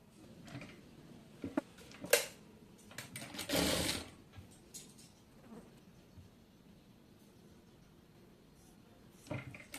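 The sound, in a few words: sewing machine stitching piping on a kameez neck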